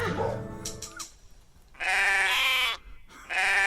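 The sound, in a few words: sheep bleating in podcast jingle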